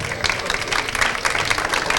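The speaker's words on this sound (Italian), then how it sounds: "qui l'applauso è" An audience applauds as the Pink Flamingos are called on stage at the GiroSardegna 2026 cycling race presentation, a steady wash of clapping from a crowd for about two seconds.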